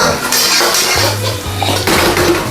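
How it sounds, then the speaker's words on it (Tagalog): A metal pot lid lifted off a pot of cooking young corn, with loud close clanks and rattles of metal against metal, plus a hiss of steam or simmering underneath. "buksan na po natin ang ating takip"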